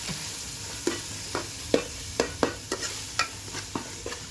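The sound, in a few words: frying and stirring onions and tomatoes for chicken curry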